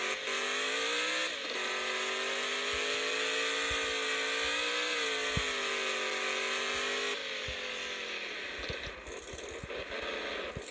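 An off-road truck in the Offroad Outlaws video game revs hard and spins out on a steep mountain climb. Its loud, sustained engine drone holds steady, dips briefly, then surges again with scraping clicks, close and alone.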